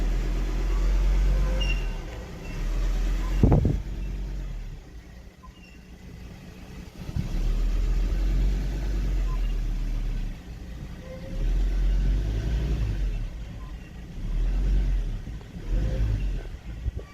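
A car engine, pulling a Chevy C30 chassis out of a shed, rumbles at low idle, then revs in several surges, with a sharp knock or clank early on.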